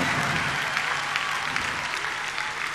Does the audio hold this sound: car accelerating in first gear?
no